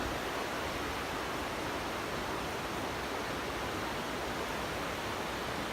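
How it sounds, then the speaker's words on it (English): A creek with waterfalls along a foothills trail gives a steady, loud, rushing wash of flowing water that does not change for several seconds and has no voices. "It's a beautiful creek, lots of waterfalls along the way."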